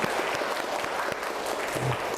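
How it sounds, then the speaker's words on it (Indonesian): Short burst of applause from a class of students at an Indonesian university lecture, steady and moderately loud with a few sharper claps, no talking over it. "Tepuk tangan untuk kita semuanya."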